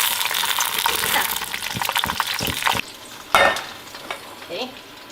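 Chicken pieces hit smoking-hot oil for ayam kremes and sizzle loudly with crackling pops and spatter, close by. The sizzle cuts off sharply partway through, and scattered spits and a brief stirring clatter follow.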